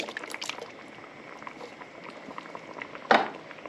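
Two cans of tomatoes go into a simmering stew pot and give a soft, continuous bubbling and gurgling. One brief, louder splash or stir comes near the end.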